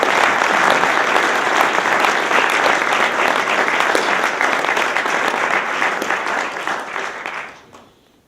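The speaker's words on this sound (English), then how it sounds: "Let's give a round of applause to the Maine Center for Public Interest Reporting" A crowd at a journalism awards ceremony breaks into loud, dense applause for an honoree, sustained and steady close by before tapering off and fading near the end.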